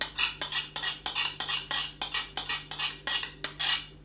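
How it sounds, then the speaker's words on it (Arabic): A spoon mixes dry and liquid ingredients for a flourless chocolate cake in a bowl, a steady run of about a dozen rhythmic scraping strokes with light clinks, close and even, under a faint hum. "هنخلط الاتنين مع بعض."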